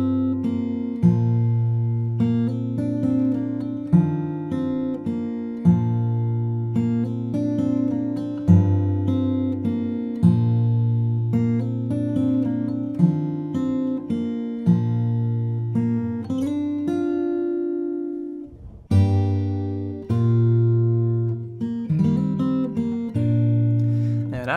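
Fingerstyle acoustic guitar plays the intro of a song, a steady flowing pattern of bass notes and melody for about twenty-five seconds, close and clear with no talking, pausing briefly before resuming.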